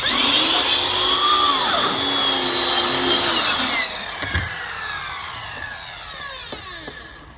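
A power saw cuts out the heads of homemade silhouette targets, a loud continuous whining buzz with shifting pitch that lowers and fades near the end, heard close and alone.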